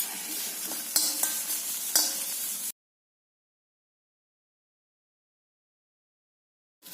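Washed dried shrimp frying in a pan, a close hissing sizzle with a few scraping stirs for under three seconds, then silence and a brief return of frying at the very end.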